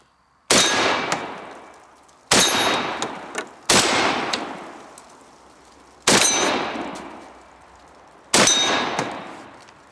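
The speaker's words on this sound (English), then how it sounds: "Ran all 5 shots, no problem." Five loud shotgun blasts from a Fed Arm FX3 semi-automatic 12 gauge at an outdoor range, each a sharp crack with a long ringing decay, fired at an uneven pace a second or two apart.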